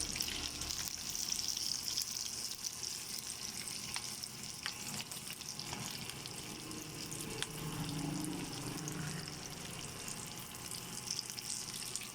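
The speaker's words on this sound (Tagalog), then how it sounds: "dapat ganyan lang yung pagkakaprito ng bangos" Milkfish (bangus) frying in oil in a pan: a constant, fairly quiet sizzle and crackle with small pops and bubbling, and no one talking.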